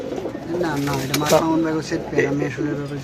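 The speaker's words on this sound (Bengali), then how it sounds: "এই যে একটা নট ডাকতেছে" A male pigeon coos close by in rolling, repeated throaty calls while someone talks over it and wings or feet shuffle faintly.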